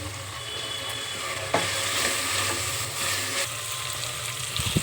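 Onions roasting in oil with fresh mint for biryani sizzle steadily up close, with a sharp scrape of stirring early on and no talk.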